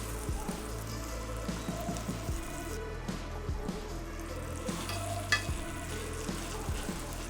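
Pork tenderloin cutlets fry in a pan with a steady close sizzle and crackle, punctuated by soft clinks and scrapes as pieces are placed and moved.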